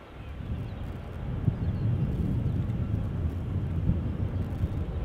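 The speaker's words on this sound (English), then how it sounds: "Time for more 777 action. United going to Houston." A 25-year-old United Airlines Boeing 777-200 jet bound for Houston rumbles at Schiphol's Polderbaan runway, a steady low roar heard at a distance with wind noise on the microphone.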